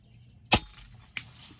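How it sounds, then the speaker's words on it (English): An airgun pellet strikes a plywood target at a 100-yard benchrest practice, making one sharp, loud crack followed by a fainter second impact a moment later against quiet outdoor background. "Love the way that sounds when it hits the plywood."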